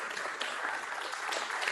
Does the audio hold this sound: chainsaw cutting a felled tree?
no